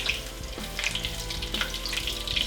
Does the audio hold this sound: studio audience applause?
no